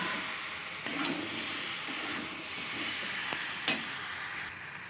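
Mango pieces are stirred with dried red chilli powder in a pan, producing a soft steady sizzle and hiss broken by a few sharp scrapes and taps of the spoon against the pan.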